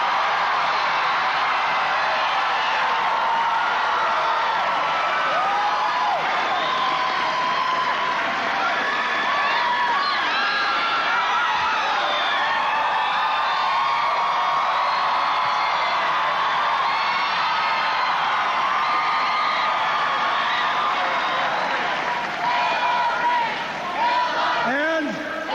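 A large crowd at Bill Clinton's 1992 election-night victory rally in Little Rock cheers for Hillary Clinton, a loud, sustained roar of whoops, shouts and applause that stays dense for the whole stretch with no clear speech.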